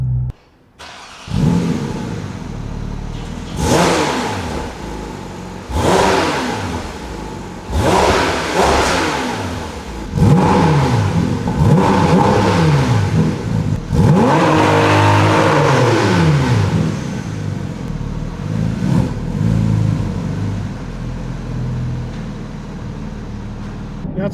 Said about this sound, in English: There's still nothing like this sound.